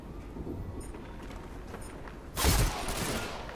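Gunfire in the online shooter game Ghost Recon Online erupts as a sudden, loud burst of shots partway through, following quieter background game ambience, with no talking.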